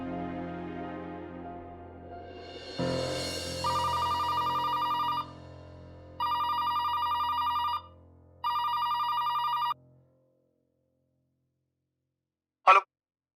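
A telephone rings on an outgoing call, first a rising tone, then three long, even bursts of ringing separated by short pauses. A single sharp click follows after a silence.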